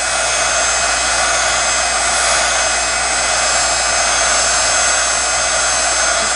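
A heat gun blows steadily on a candle, a loud, even hiss of rushing air that holds without a break from start to finish, close up with no voices.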